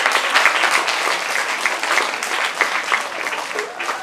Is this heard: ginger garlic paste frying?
no